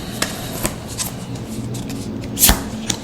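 Tarot cards being shuffled and drawn during a reading: soft, close card flicks and taps at irregular intervals, one sharper slap near the end, with no talk.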